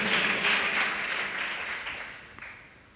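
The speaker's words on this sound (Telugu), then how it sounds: "మరొకసారి చప్పట్లు కొట్టి దేవుని బిగ్గరగా స్తుతించండి." A church congregation claps together in praise during a Telugu worship service, a dense, sustained wash of many hands that stays loud and steady and then slowly fades toward the end.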